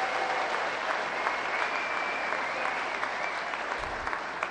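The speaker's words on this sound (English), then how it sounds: "Clap, give yourselves a clap" Graduating students at a Harborside Academy ceremony clap and applaud together, a steady, dense wash of crowd clapping that holds at an even level throughout.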